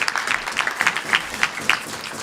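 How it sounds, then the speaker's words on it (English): A crowd at a Rotary Club gathering in Tucson breaks into applause, a brief burst of many hands clapping in a room, fairly close and steady, with no voices over it. "Give her a round of applause."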